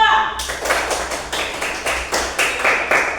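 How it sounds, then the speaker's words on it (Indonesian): A short burst of classroom applause for a student group, many hands clapping in a quick, steady patter for a few seconds, fairly close and lively. "silahkan beri tepuk tangan untuk kelompok 2"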